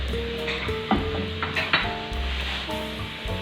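Oil sizzles in a greased pan as a continuous hissing crackle beneath steady background music, with a few soft knocks along the way.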